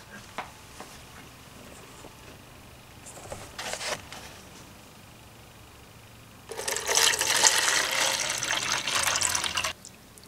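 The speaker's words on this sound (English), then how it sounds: "Then wash it in 2 baths of distilled water." A metal part is rinsed in a distilled water bath during backyard DIY nickel plating. A few small clicks and splashes come first, then a loud, steady rush of water runs for about three seconds before stopping abruptly.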